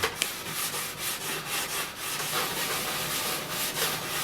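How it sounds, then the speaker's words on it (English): A rubberized stone rubs along a snowboard's base and sidewall edges to remove burrs, giving a soft, repeated back-and-forth scraping in a steady rhythm, quiet and close. "we'll run it down the base edge a little bit just to get any burrs off"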